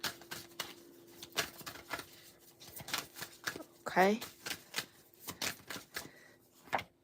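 Tarot cards are shuffled in quick, papery riffles and clicks near the microphone while a person talks over them.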